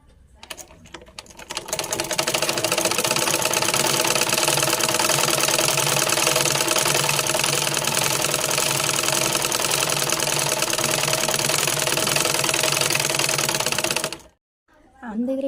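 A sewing machine stitches a silk shirt for a one-year-old child, running steadily and loud after a short start, with a fast even whirr that stops abruptly near the end and then restarts briefly.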